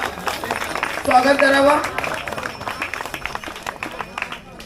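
Applause from an audience welcoming honoured guests at a village school event with a Ratnagiri naman troupe, a scattered patter of claps running under someone speaking over a loudspeaker.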